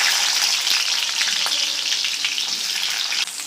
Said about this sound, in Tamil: நல்லா பொரிஞ்சதும் நறுக்கி வச்சுருக்க சாம்பார் வெங்காயத்தை போட்டுக்கலாம்